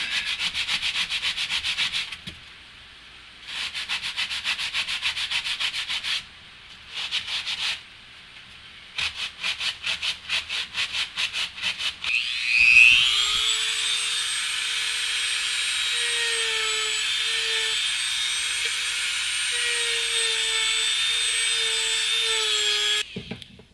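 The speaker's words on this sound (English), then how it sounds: "got this 80 grit sanding block. I'm going to see if I can get just enough of the edges smoothed out" An 80 grit sanding block rubs along panel edges during a flush-mount install, giving bursts of rapid scratchy strokes separated by pauses, followed by a long steady whirring tone that holds to the end; no one talks.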